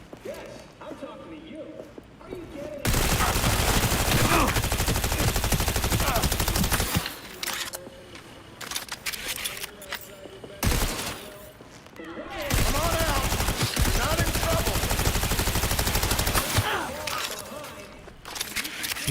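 Rapid sustained gunfire from smart weapons in Cyberpunk 2077, two long loud bursts of dense automatic shots separated by quieter stretches with a voice speaking.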